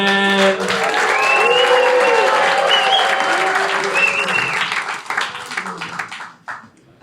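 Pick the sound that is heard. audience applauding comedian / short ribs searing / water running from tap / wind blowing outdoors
audience applauding comedian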